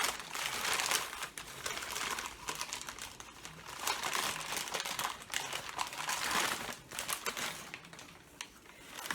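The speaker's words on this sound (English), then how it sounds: "unveiling or unpackaging of what I found in Goodwill as far as the teacups and sauces are concerned" Packaging around vintage teacups and saucers from Goodwill is unwrapped with close, loud crinkling and rustling that comes in irregular bursts, rising and easing as the wrapping is pulled away.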